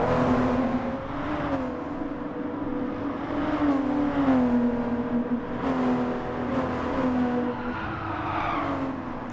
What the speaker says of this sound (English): So here's car number 1 getting past.